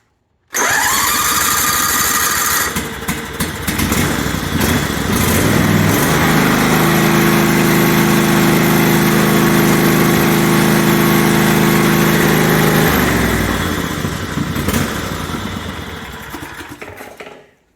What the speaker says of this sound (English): Hey, for a 20-year-old engine, that thing runs good.